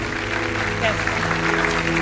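Studio audience applause at a French television game show, dense steady clapping filling the whole stretch, with a voice talking over it.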